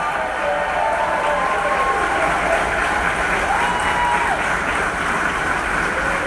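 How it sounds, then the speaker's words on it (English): Applause from an audience at a 50th anniversary celebration, a continuous dense wash of clapping that holds steady and fairly loud throughout, with a faint crowd murmur beneath. "I do want to get a big, big round of applause for Melissa Alonso."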